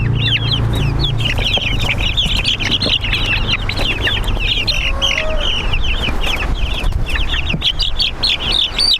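Young, fully feathered chickens, including French breast birds, cluck and chirp busily in a brooder, a dense, continuous chorus of close, overlapping calls with no talking.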